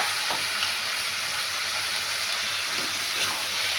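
Potatoes and vegetables fry in spiced oil in a pan, giving a dense, continuous loud sizzling hiss with occasional faint stirring clicks, close and without speech.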